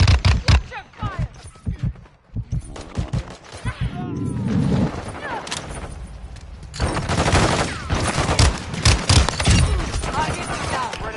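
Gunfire in a Modern Warfare 2 DMZ firefight, repeated rapid bursts of automatic shots and cracks coming in waves, sometimes loud and close, sometimes sparser, with radio-style voices talking throughout.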